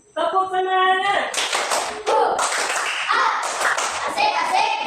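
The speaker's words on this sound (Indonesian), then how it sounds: "Tepuk semangat." Children in a classroom perform a rhythmic cheer clap: a voice chants first, then bursts of patterned group clapping follow in quick sets, mixed with kids' voices.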